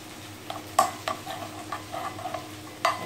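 A spoon stirring homemade pizza sauce with hot sauce in a pan makes a series of sharp scraping clinks over a soft sizzle, close up and irregular.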